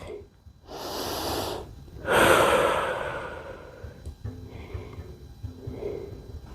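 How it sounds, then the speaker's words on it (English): Deep breathing during a yoga stretch: two long, audible breaths, each a loud breathy rush, are separated by quiet pauses, followed by softer, shallower breaths near the microphone. "A few rounds of breath."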